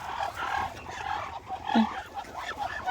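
A group of ducks on a farm quacks in short, repeated nasal calls that overlap at moderate distance, with a rustling outdoor background.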